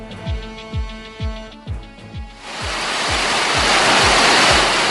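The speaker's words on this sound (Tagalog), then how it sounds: "may mga binayo na ng malakas na hangin at binaha dahil sa malakas na pagulan" A rhythmic musical beat with regular low thumps gives way to a loud, continuous roar of heavy rain and strong wind in Northern Samar, Philippines, that builds and stays dense.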